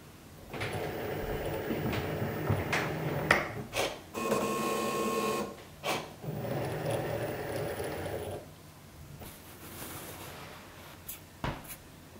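A Cricut Maker 3 cuts smart permanent vinyl for cake toppers, giving close mechanical whirring, sliding carriage sweeps and clicking as the head moves back and forth, in uneven bursts with brief pauses.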